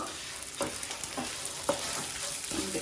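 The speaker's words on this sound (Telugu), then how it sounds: "కొంచెం కలరు మారే వరకు ఫ్రై చేసుకొని" Vermicelli frying in a pan for payasam, a close, steady sizzle broken by a few soft scraping stirs.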